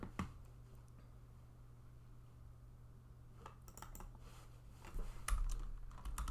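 Quiet, irregular clicking of fingers typing on a computer keyboard while someone works on a Raspberry Pi programming project, with scattered keystrokes growing a little busier and louder toward the end.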